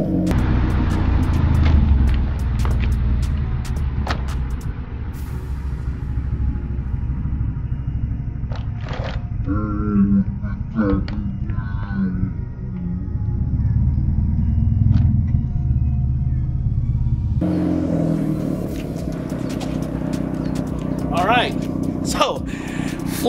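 A car rolls over a Lancer Tactical Gen 3 polymer airsoft rifle at an airsoft field, with a heavy engine and tyre rumble, scattered crunching and scraping as it crushes the gun, and people talking throughout.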